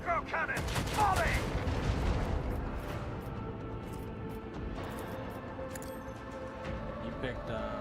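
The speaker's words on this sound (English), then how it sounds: "Macro cannon, volley!" A macro cannon volley in the Rogue Trader game: a heavy booming barrage at the start that rolls into a long rumbling decay, with a voice speaking over it.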